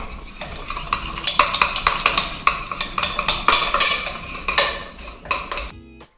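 A utensil stirring melted chocolate and fresh cream in a bowl makes a run of loud, repeated scraping and clinking strokes in an irregular rhythm, close by, that stop abruptly at the end.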